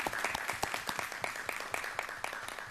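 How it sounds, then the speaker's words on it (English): Audience applause at a city council meeting, a brisk mix of several nearby clappers with distinct claps over a fuller patter, steady throughout and fairly loud. "Let's give all a round of applause."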